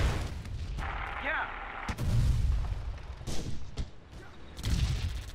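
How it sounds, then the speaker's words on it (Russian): Heavy booming tank cannon shots in the video game Theatre of War ring out several times, each followed by rumbling echo, amid game battle noise and a voice talking. "Опять мы делаем выстрел."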